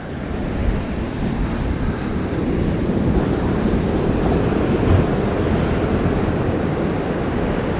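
Rough North Sea surf at Skegness beach on an out-of-season evening, rolling and crashing in a constant roar, with wind buffeting the microphone throughout.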